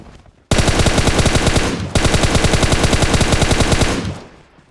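Loud sustained automatic gunfire in the mobile battle-royale game PUBG Mobile, two long rapid bursts separated by a brief break, close and dominant before trailing off.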